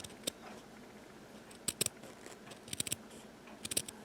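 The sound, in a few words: scissors cutting around a piece of heavy felt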